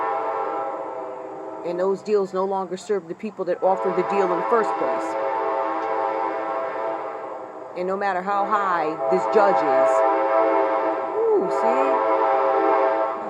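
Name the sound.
train horn sounding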